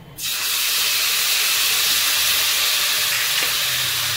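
Poppy seed and white mustard paste goes into hot oil in a pan for a rupchanda fish curry. It starts with a sudden loud burst of sizzle, then settles into a steady, close hiss with no talking.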